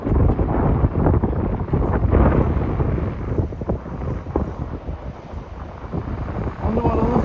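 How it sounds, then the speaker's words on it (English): Strong wind buffets the microphone on a blustery day outdoors, a loud, continuous low rumble of gusts with faint murmurs of someone talking underneath. "It is a windy day as well, guys."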